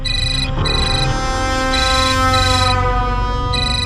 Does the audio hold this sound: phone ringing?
yes